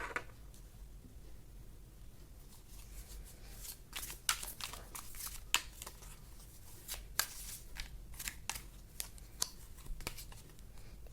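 Tarot cards shuffled and drawn, a run of crisp papery flicks and snaps coming quick and close, with a brief quieter pause at the start.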